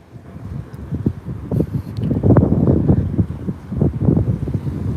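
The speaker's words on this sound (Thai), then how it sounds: "โอ้พัดจะล้มเลย ลมแรงมาก" A strong, gusting wind blows outdoors on a cold winter walk, rumbling and buffeting the microphone in loud, uneven surges.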